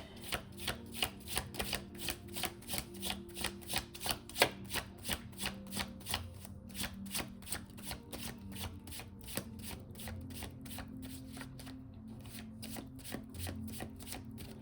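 Tarot cards are shuffled in a quick regular rhythm of crisp riffling flicks, close and soft, with brief pauses between bursts.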